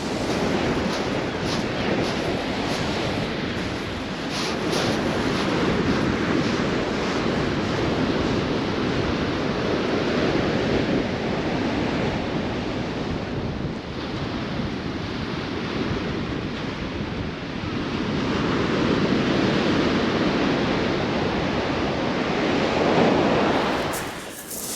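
Waves breaking and washing over the shingle shore of Chesil Beach in Dorset, a constant loud roar of surf and rattling stones with wind buffeting the microphone, no voices.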